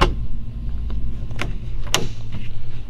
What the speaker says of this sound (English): I'll show you how those interior door latches work.